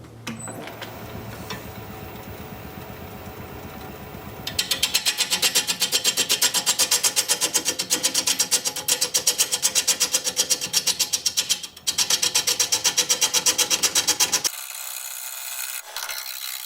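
A wood turning tool being sharpened on a grinder in a woodworking shop, at first a softer grinding hum, then a loud, steady, buzzing grind for about ten seconds with a brief dip, ending in a quieter run-down.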